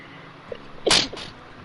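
A person sneezes once, sharp and close, alone after a short quiet stretch, followed by a softer trailing breath.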